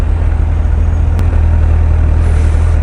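A Honda CBF1000 motorcycle engine runs steadily nearby with a deep, even idle rumble and one brief click partway through.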